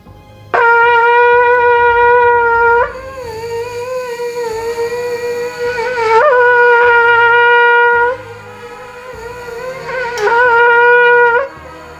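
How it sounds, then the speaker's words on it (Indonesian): A trumpet holds bright, steady sustained notes in three long blasts, each swelling loud then dropping back, with a softer tone between them. "getaran suara tadi kita teruskan ke badan trompet, suaranya seperti ini"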